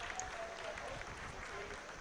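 Audience applause in a mission control hall during the Chandrayaan-3 lunar landing broadcast, a steady, dense wash of clapping filling the whole short stretch, with voices faintly mixed in beneath.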